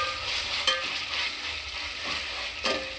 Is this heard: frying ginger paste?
yes